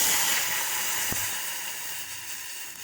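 Tamarind water poured into a hot pan of sautéed curry leaves, red chili and crushed spices for Kerala-style rasam gives a loud, steady sizzling hiss that starts strong and slowly eases off, with a brief knock near the middle.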